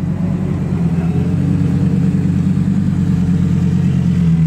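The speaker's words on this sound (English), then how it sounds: "behind him, rolling in, we have a twin turbo forest green Audi R8" A twin-turbo forest green Audi R8 rolls into a supercar meet, its engine a steady, loud low rumble that holds throughout at close range.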